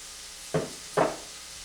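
Chopped onion drops into foaming butter in a pot while a smoked salmon chowder is being started, giving two short, quiet sizzling bursts about half a second apart with no talk.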